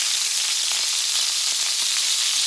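A petite sirloin steak frying in a hot pan, a loud, dense, continuous sizzle with steady crackle and spatter throughout, no voices.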